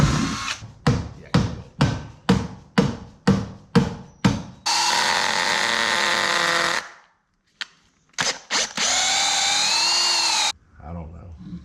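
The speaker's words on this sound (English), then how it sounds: "We're gonna have to get a drill bit and drill that hole out just a little bit" A power drill bores out a hole in a bridge culvert fitting, first in a rapid series of short bursts, then in two longer sustained runs with a rising whine, close and loud.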